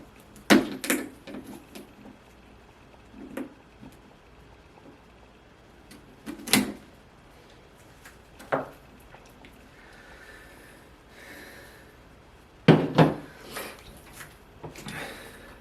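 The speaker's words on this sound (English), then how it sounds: "take that piece off with the knob cutters" Knob cutters snip and clip at a ficus microcarpa bonsai, with several sharp woody cracks and clicks spaced out over quiet rustling and handling, close by.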